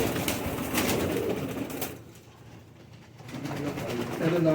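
Pigeons, including Sialkoti and Bajraie breeds kept by a breeder in Pakistan, coo softly nearby, with the cooing fading briefly in the middle before resuming.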